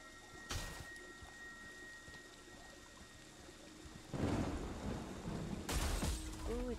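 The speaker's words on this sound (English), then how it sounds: "it's raining" Rain and rolling thunder in a Friday the 13th video game, a steady rain hiss building into louder thunder bursts around the middle and near the end, with no talking.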